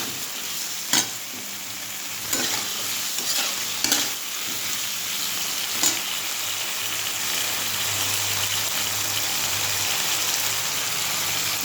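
Food frying steadily in a pan with loud continuous sizzle, stirring scrapes and a few sharp clinks as salt and ground spices are added, no voices.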